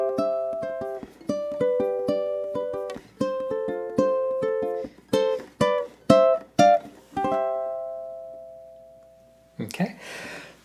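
A ukulele strums a chord progression ending with a walk-up, with plucked chords ringing in a steady rhythm, a final chord left to sustain, then a brief bit of talk at the end.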